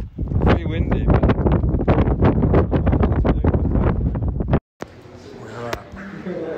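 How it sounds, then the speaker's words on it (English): Strong wind buffets the microphone at Petra in Jordan, a loud, continuous roaring rumble that drops out abruptly for a split second near the end, then resumes more softly. "Pretty windy"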